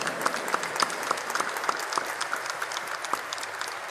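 A congregation applauds during a Mass at the Basilica of Itatí, a steady and moderately loud round of many clapping hands echoing in the large church space, with no talking over it.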